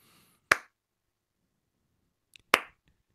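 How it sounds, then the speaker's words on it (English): Two sharp hand claps, about two seconds apart, ring out close by in a bare-walled bedroom, each trailed by a short echo, with quiet between them. "There is a pretty clear echo of the clap when he makes it."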